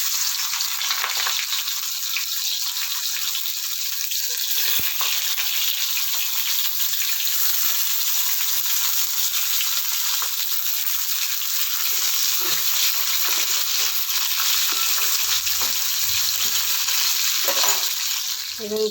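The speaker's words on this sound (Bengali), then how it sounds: "উচ্ছেগুলো ভেজে নেব" Bitter gourd pieces fry in a small amount of hot oil, giving a steady, dense sizzle that runs close and unbroken throughout, with a few faint clinks near the end.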